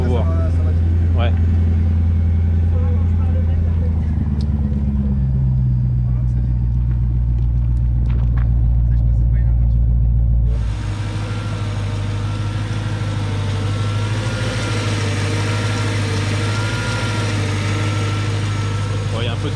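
A Mercedes CLK 500 with a faulty V8 runs cold, idling loudly and close with a deep steady rumble and a shift in engine pitch partway through, while a person talks over it.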